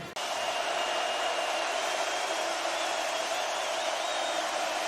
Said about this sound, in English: Facing serious crowd noise in their home stadium.